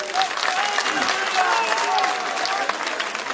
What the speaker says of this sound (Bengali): একটা জোরদার হাততালি হয়ে যাক